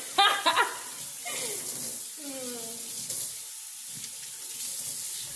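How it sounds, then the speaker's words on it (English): Tap water runs steadily while smoked salmon and fish bones are rinsed under it, a continuous close splash with a few brief voices talking at the start. "So you wash it up."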